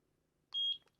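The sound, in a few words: device pairing beep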